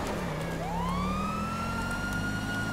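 Police car siren in GTA Online, a rising wail that sweeps upward and holds a steady high tone, loud and close over a constant low rumble of engine and traffic.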